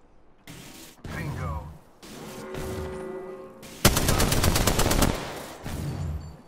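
Charge rifle fire in a video game, heard as loud, rapid, rattling bursts around the middle of the clip, with other game sounds and movement noise before and after.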